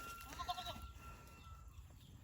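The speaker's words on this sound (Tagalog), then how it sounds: "yung dalawa nating kambing na ganyan" Goats on a smallholding farm bleat in short wavering calls near the start, then fade into a low, steady farmyard background with no talking.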